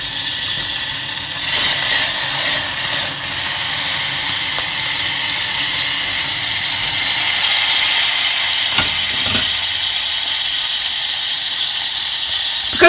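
Butter melting in a hot pan sizzles and hisses steadily and loudly throughout, a constant frying crackle with a couple of faint knocks near the end.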